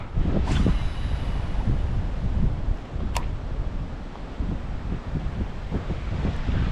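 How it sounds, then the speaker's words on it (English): Gusty wind of around 11 to 20 mph buffets the microphone outdoors by the water while fishing, a loud, steady rushing roar with a few stronger swells, alone and without talk. "of course it's peak wind time right now"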